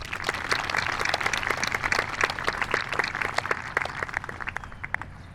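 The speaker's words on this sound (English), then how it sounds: "let's have a huge round of applause for all of them" Applause fills a 2020 Wellesley High School commencement ceremony: dense, steady clapping from a large audience, sustained and fairly even throughout with no talking.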